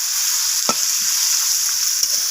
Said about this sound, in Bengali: তো লবণ আর হলুদটা দিয়ে আমি টমেটোটাকে একটু ভেজে নেব।